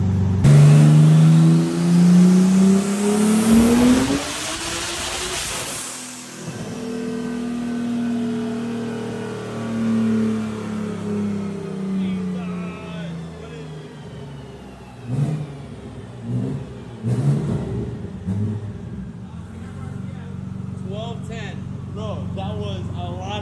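A BMW engine on a dyno climbs hard in revs, then cuts off abruptly. It settles into a rumbling idle with further throttle blips and engine noise, loud and close, with people talking over it.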